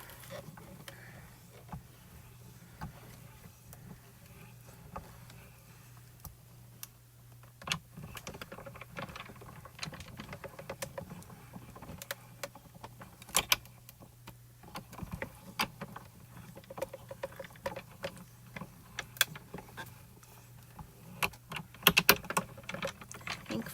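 Spellbinders Glimmer hot foil machine cranked by hand, with a steady low hum and scattered sharp clicks and ticks of the plates passing through, faint and close.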